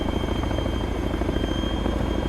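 A helicopter in the military video game Arma produces a loud, continuous rotor thump with a rapid, regular chop and steady engine whine, heard close and alone.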